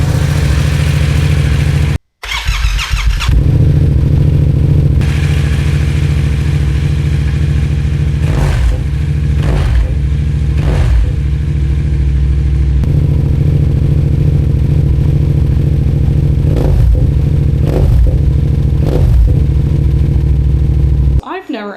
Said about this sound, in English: we're gonna see which of these cameras captures the exhaust startup sound the best